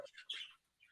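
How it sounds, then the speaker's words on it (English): A few quick, faint chirps and tweets from pet birds in a short burst, high-pitched and fairly close, with near silence between them. "Sorry, they're very noisy, but they're very nice birds."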